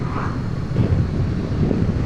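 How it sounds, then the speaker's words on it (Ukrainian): Strong crosswind buffets the microphone while riding a Honda Rebel motorcycle, producing a constant low rumbling roar that swells and gusts unevenly. "Дуже сильний боковий вітер."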